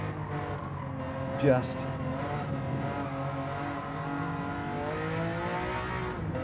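A Volkswagen Golf GTI in Gran Turismo 7 drones along at speed, its engine note steady before a brief tire squeal under braking, with someone talking over it throughout.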